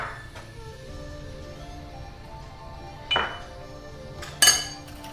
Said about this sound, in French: je vais déjà verser tout ce que j'ai mis là dans mes petits pots